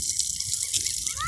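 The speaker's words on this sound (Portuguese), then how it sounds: "E assim que nós jogamos água aqui nele." Water poured from a container onto a custard apple plant in a garden plot, a soft continuous splashing trickle close by, with faint voices in the background.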